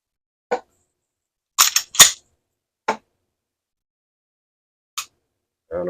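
A SAR9 pistol gives sharp isolated clicks in a quiet room as its trigger breaks and resets, a few short snaps spaced apart, with a pair close together in the middle.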